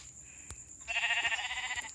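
A sheep bleats in the video game Minecraft Pocket Edition: one near, fairly loud, drawn-out wavering bleat, preceded by a brief soft click.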